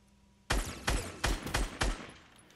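Five sharp, loud gunshots in Fortnite fire in quick succession at an even rhythm, each with a short booming tail, then fade into quiet.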